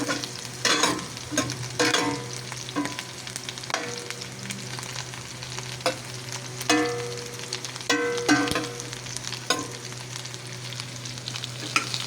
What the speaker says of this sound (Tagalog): Haluin lang natin to.